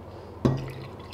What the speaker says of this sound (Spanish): Agua, 2 vasos de agua con una cucharada de concentrado de tomate y se lo voy a echar a nuestra sopa.